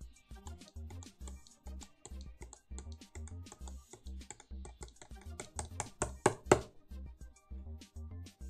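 Rapid clicking of a computer keyboard and mouse during digital sculpting work in ZBrush, a close, steady patter of keystrokes in uneven bursts, with a few sharper, louder clicks near the end.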